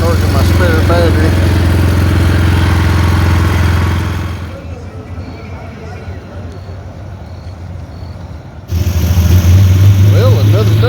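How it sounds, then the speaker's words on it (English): A PowerSmart 4400W portable generator runs with a steady low engine drone that dips quieter for a few seconds midway, then returns loud. "Well, another day and our little generator still trucking along."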